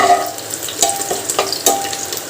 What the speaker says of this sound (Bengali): তেলের মধ্যে দিয়ে দিয়েছি তেজপাতা আর দিয়ে দিয়েছি রসুন তো এটা ভালো করে একটুখানি নাড়াচাড়া করে নেব